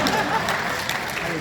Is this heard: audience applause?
yes